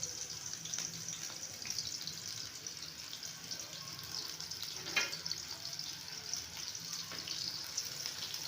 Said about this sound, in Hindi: प्याज़ों को हल्की हल्की आंच पे फ्राई करते रहेंगे